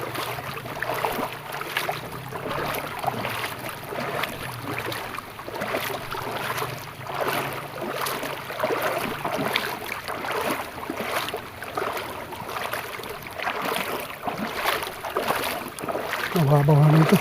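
A small boat motor runs steadily on open water for the whole stretch, a constant droning hum mixed with wind and water noise, close and fairly loud, with no talk.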